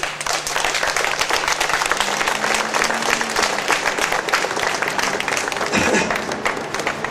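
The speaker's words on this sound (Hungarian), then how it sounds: "Tapsoljuk meg őket," Crowd at a disability pensioners' protest outside the Fidesz headquarters applauds steadily and loudly throughout, a dense continuous clapping with a faint voice briefly audible underneath.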